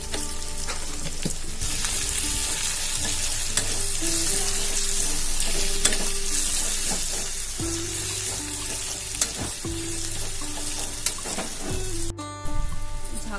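Takla leaf vegetable cooks in a pan as a monsoon-season dish, a steady close sizzle and frying hiss with scattered stirring scrapes and knocks throughout.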